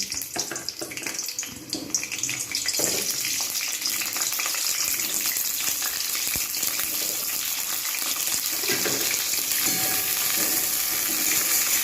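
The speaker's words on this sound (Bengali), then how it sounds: "সর্ষে তেল দিয়ে দিয়েছি আমি একসঙ্গে সবজিগুলো একসঙ্গে ভেজে নেব" Winter vegetables (potato, radish, cauliflower) frying together in mustard oil for a vegetable khichuri, a steady loud crackling sizzle filling the whole stretch with no talk.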